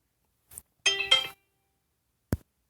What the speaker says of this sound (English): Man, even the phone chimed on that.